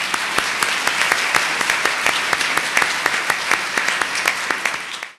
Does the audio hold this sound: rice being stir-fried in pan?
no